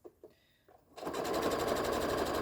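A sewing machine stitches a mini tote bag: a few soft clicks, then a sudden steady, fast mechanical whirr running continuously at close range.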